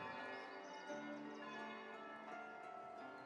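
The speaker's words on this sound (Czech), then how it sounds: "Už nám zvoní zvoníci." In the medieval city-building game Foundation, a church bell rings with a sustained, overlapping metallic drone. It sounds steady and somewhat distant, quiet and alone.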